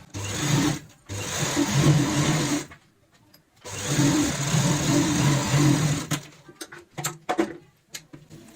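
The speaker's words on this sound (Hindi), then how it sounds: "यहाँ पे अब पलटते हुए सिलाई लगाएंगे जिप के ऊपर" A sewing machine runs in two long stitching bursts, separated by a brief pause, as a fabric strip is sewn over a zipper for a cushion cover; after that comes a stretch of short, stop-start stitching, close and steady.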